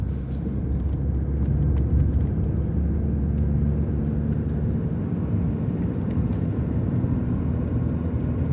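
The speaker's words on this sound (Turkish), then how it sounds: "Araç şu an yakıtı kesti. Hani kendi devinimi hareketiyle gidiyor." A Tofaş car coasting in third gear with the throttle released and fuel cut off, a steady low engine and road drone that slowly winds down, continuous and close.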